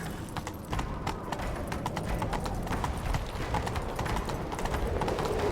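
Rapid, steady clip-clop of horse hooves at a gallop in The Witcher 3: Wild Hunt, continuous and fairly close, with a busy rumbling background throughout.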